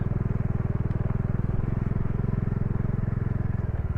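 A Bajaj Dominar 400 motorcycle rolls slowly in second gear along a Ladakh road from Pangong Lake toward Hanle. Its low, steady engine thump continues close and loud for the whole stretch, with no voices over it.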